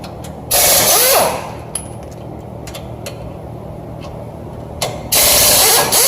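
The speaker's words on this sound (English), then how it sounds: "Now removing the factory tow hooks." A ratchet wrench works on the factory tow hook bolts of a Ford F450, with loud bursts of rapid clicking at the start and end and scattered mechanical clanks and taps between.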